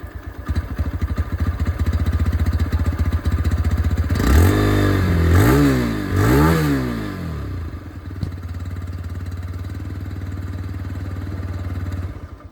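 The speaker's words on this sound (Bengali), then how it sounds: "এক্সস্টের সাউন্ডটা একবার আপনাকে নিউ ABS মডেল থেকেই শুনিয়ে দিই।" A TVS Raider 125 ABS motorcycle's exhaust, close by, settling into a steady idle, then blipped through three quick revs around the middle before returning to idle, with no talk.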